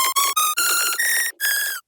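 A bright, buzzy synth lead with a raw init-patch tone plays a short melodic phrase of stepwise rising notes, separated by brief gaps, loud and alone within a remix.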